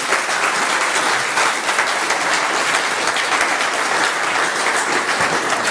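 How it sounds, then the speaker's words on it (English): Steady, dense applause from a large audience, sustained clapping at even loudness throughout with no voices standing out. "Let's give them a warm round of applause for joining me."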